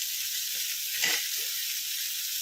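Food cooking in butter with Schezwan sauce, a steady hissing sizzle with one brief louder stir or pop midway.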